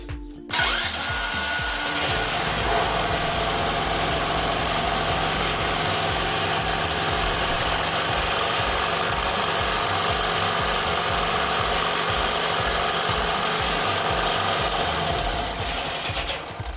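A generator started with its key starter catches at once and runs steadily, a loud, even engine drone with a rapid mechanical rattle that holds without a break.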